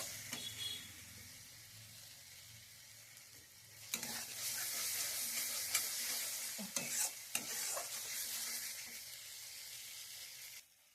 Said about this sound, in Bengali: এটা আমি ভালো করে এবার কষিয়ে নেব।